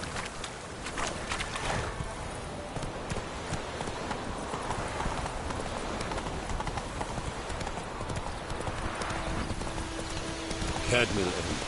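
Roach, the horse in The Witcher 3, gallops in a steady rhythmic clip-clop of hooves that runs throughout, with game ambience and a brief mechanical rattle near the end.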